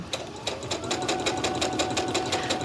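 A sewing machine stitches quilt pieces together for a crumb quilt, a close, fast rhythmic whirring and ticking that runs steadily throughout without talk.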